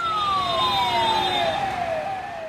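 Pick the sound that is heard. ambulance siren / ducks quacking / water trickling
ambulance siren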